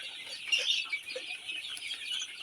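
Sonali chickens cluck softly in their pen, a faint scatter of short murmuring calls and chirps at a slight distance over low background noise.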